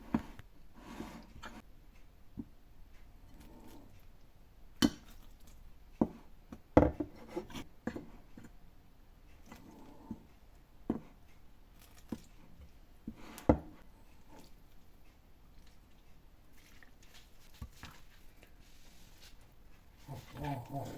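Quiet scraping and occasional clicking taps as varenyky dough is stirred with a spoon in a bowl while boiling water is gradually added, with soft talking throughout.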